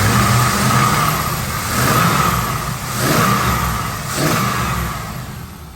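A 1999 Pontiac Firebird Trans Am runs under its open hood on a humid day, the engine idling loud and close with smooth, slow swells where the revs gently rise and fall.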